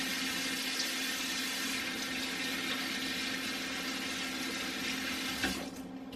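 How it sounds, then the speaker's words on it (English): Water from a kitchen tap runs steadily into a sink during handwashing, a continuous even splash that tapers off near the end. "Wash my hands."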